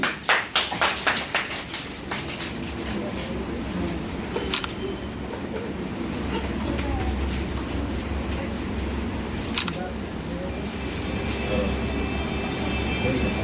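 Students at a school quiz and word-game programme clap in a dense burst of applause at the start, which thins into a steady room hum with faint scattered taps.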